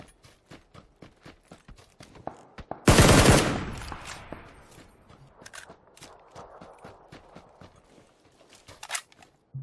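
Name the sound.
gunfire in a video game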